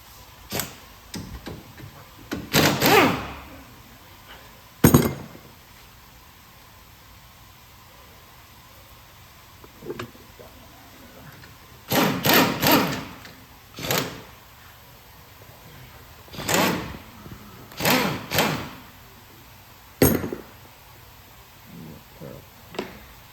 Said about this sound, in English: I'm gonna go ahead and take off this lower shock bolt.